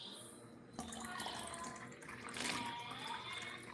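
Water trickles and splashes steadily through small holes poked in a container used to water a garden, a quiet close running flow with a few brighter splashes.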